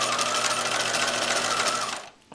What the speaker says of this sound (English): Sew all the way across and back stitch when you get to the end.